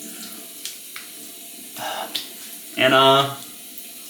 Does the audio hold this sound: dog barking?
no